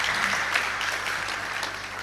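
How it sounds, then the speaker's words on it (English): An audience claps in a steady, dense burst of applause for a woman's question, heard briefly and without speech. "I think we should applaud the lady for her question."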